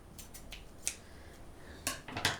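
Scissors cutting pink embroidery thread, several quick crisp snips close to the microphone in a quiet room, with a cluster of sharper cuts toward the end.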